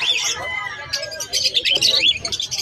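At a Malabon pet market, lutino and opaline lovebirds let out busy, shrill chirps and squeaks, a close, overlapping chatter of many birds with a faint murmur of voices underneath.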